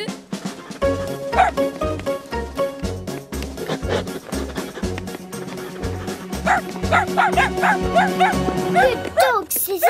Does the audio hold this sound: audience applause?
no